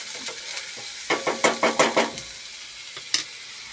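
Kokan-style dry wakati masala sizzles and frys in a pan while a spoon stirs and scrapes it, with a cluster of rhythmic stirring knocks in the middle and a soft steady sizzle throughout.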